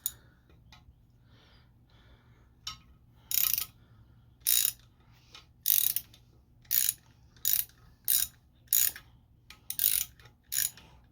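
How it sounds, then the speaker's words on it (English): A ratchet wrench turns a thread tap to re-cut threads during a balance shaft delete on a Honda Civic EK engine, giving a series of sharp, close clicking bursts in a repeating rhythm with short pauses between strokes, heard alone. "I'm going to give it another go in there, just so the threads are cut nice"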